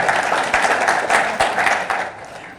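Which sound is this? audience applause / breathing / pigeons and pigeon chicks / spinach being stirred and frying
audience applause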